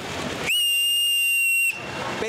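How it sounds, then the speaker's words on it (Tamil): A loud, steady whistle blown by cricket fans at an IPL match crowd rises sharply and holds one shrill tone for over a second, between stretches of noisy outdoor crowd. "பெரிய விசில் அடிங்க"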